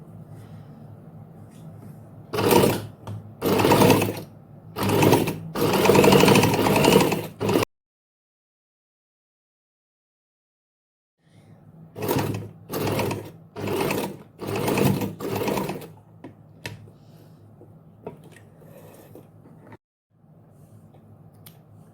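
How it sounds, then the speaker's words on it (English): A sewing machine stitches two fabric sides together for a circle top, running in several short loud bursts separated by pauses, then a long silence before another series of bursts. "put it under your machine, bringing these two sides together and sew 1/2 inch from up to down"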